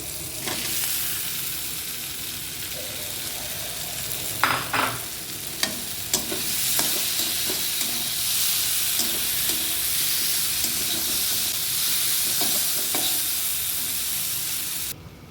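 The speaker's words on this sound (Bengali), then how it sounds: "আমি ভেন্ডিটা দিয়ে দিচ্ছি।" Okra for a bhindi masala made with tomato only fries in a pan with a continuous loud sizzle, broken by scattered clinks and scrapes as it is added and stirred.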